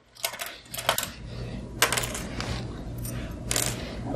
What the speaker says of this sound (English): I'll drop the presser foot and press the go button. And I'm only going to sew a few stitches.